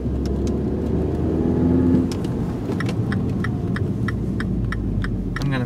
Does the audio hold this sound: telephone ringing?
no